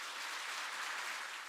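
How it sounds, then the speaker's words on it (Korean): A church congregation at a special dawn prayer meeting clapping to welcome the preacher, a soft, even wash of applause heard from a distance, continuous for the whole moment. "이 시간에 박수로 환영해 주시기를 부탁드립니다"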